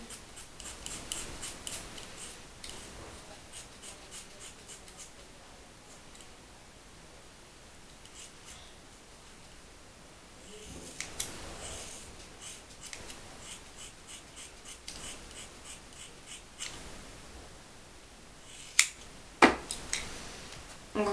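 Scissors snipping hair during a home layered haircut, faint, quiet ticking cuts spread throughout with a few sharper, louder snips near the end, no talking.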